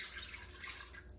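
Water poured from a cup into a pressure cooker gives a brief, steady splash, close and fairly soft, with no one talking over it.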